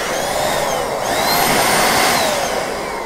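A steady, broad rushing hiss of air from an AirTec Type 6 compressed air duster blasting continuously for about three seconds, loud and close, with no pauses or talk.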